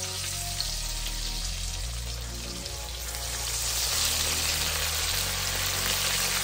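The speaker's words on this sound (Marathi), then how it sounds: "आपले प्रॉन्स झाले मसल्स झालेत आणि फिश झाले तर फटाफट आता आपण फ्राय करून घेऊया" Prawns, mussels and fish fry in hot oil with a steady, close crackling sizzle that swells slightly, under a low background hum and no talking.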